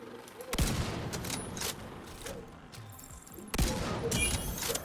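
Gunfire in a video game while the player character walks and shoots, with bursts of loud, close shots at the start and again near the end and a steady clatter of game noise in between.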